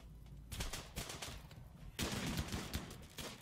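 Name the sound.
gunfire in a video game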